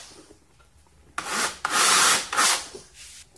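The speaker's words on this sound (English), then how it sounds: "Found the right drill bit. Let's do some drilling." A drill bites into wood in a few loud grinding bursts, each rising and fading, after a quiet moment.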